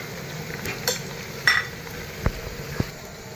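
Spice masala of ground coriander and turmeric roasting in a pan, a soft low sizzle punctuated by a few sharp clinks and scrapes of the stirring spoon against the pan.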